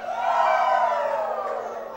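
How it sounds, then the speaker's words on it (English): A wrestling crowd at an independent show in Cornelia, Georgia roars and cheers, a loud, sustained wall of shouting voices that swells early and stays strong to the end. "The crowd wanting one more."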